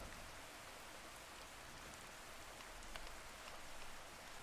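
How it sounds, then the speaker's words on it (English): Rain falls steadily during a battle in Fallout 4, a dense, even wash of raindrops on surfaces with no voices. "Assaulting in the rain."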